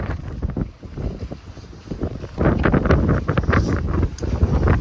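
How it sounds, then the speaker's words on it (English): Loud gusting wind on a cold, wet day in the Czech Republic buffets the microphone in rough, roaring bursts that swell stronger partway through, with no voices. "today is a cold, windy, wet day"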